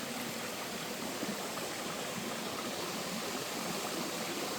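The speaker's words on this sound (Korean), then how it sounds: "실폭포가 이렇게 돌단풍과 함께 자 시원합니다" Steady rushing of a small mountain waterfall in Gangwon Province, South Korea, continuous broadband splashing water at constant level with no other sounds.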